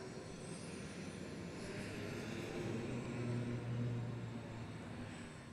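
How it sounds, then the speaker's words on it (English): A racing hydroplane's engine drones steadily throughout a boat race heat, swelling slightly then easing, heard from a moderate distance with no voices. "Jimmy Shane giving them a little bit of room before he fires the engine"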